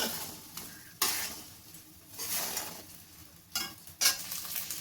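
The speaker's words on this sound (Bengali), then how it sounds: "এই যে এরকম একদম কড়া করে একটু ভেজে নেবো" Egg fries crisply in oil in a pan with a soft continuous sizzle, broken by several sharp bursts as it is stirred and turned. The sound is close but fairly quiet, with no voices.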